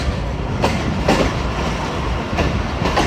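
A Hazara Express train rolls into Gujar Khan railway station, with loud, close, steady rumbling and regular clickety-clack wheel beats over the rail joints, no voices.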